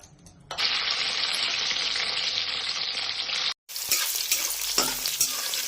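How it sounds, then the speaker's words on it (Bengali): Boiled mushrooms hit hot oil in a pan, bursting into a loud, steady broadband sizzle that holds for about three seconds, cuts out briefly, then returns rougher with stirring scrapes. "এবার মাশরুমটাকে আমি একটু তেলে ফ্রাই করবো।"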